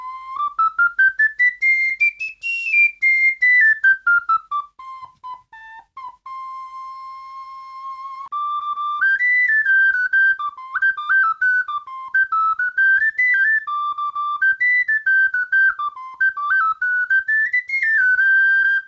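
A plastic soprano ocarina, the Noble Knight, plays a clear, pure-toned melody with rising and falling phrases, held notes and quick tongued repeats, solo and close without any voices.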